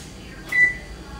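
A single short electronic beep from an oven control panel as it is set to preheat to 375 degrees, close and clear over quiet room tone.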